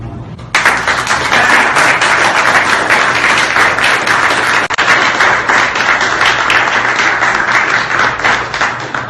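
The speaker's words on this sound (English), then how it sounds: "So I want to hear a huge round of applause for a person who's been here doing this for years" After a short quiet start, an audience at a celebration event breaks into loud, dense clapping that carries on steadily and close-up for several seconds.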